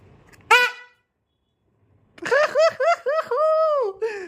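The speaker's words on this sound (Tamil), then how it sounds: "இப்போ ரெடியாக ஹார்ன் வச்சிடலாமா?" A single short car horn honk, a pause, then a rapid series of squeaky horn toots ending in one drawn-out blast, loud and close.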